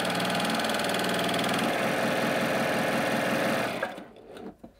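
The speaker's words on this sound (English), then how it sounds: "I'm going to go ahead and sew some triple cover stitch stitches on this calico" A Baby Lock Primo coverstitch machine sewing a triple cover stitch on calico runs loud and steady with a fast mechanical whir for about four seconds, then stops, leaving a few faint clicks.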